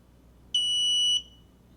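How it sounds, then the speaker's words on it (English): A single long, high electronic beep from a radio transmitter binding to a Tiny Whoop micro drone, lasting just over half a second, clear and alone against near silence. "And then you're gonna hear a long beep."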